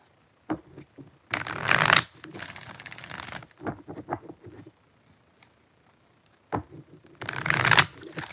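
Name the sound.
shuffling tarot cards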